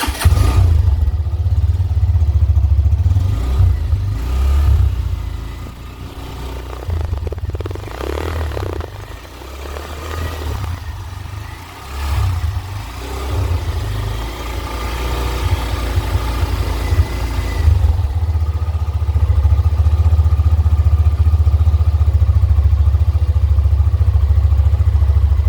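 A Hero Xtreme 125R motorcycle's 125cc engine runs close by, a strong low steady idle with a few rises in revs and light mechanical clatter, with no one speaking.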